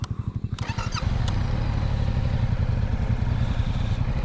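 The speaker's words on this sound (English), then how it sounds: "Maybe she'll get some confidence now that I'm killing the bike like 8 million times." A motorcycle engine during low-speed practice turns in a field, sputtering with a rapid uneven chug that then rises into a steady, fairly close idle rumble with light mechanical clatter.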